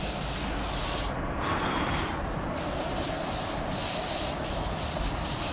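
Coffee beans being stirred with a small spoon in a metal flour sifter while roasting and shedding chaff: a steady, dense scraping rattle, close and continuous, with no speech.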